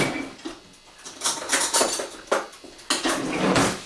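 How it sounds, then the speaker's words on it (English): Oatmeal is stirred in a pot with a utensil, producing a string of close metallic clinks and scrapes in an irregular rhythm, several sharp knocks standing out above a quieter rustle. "give the oatmeal a stir."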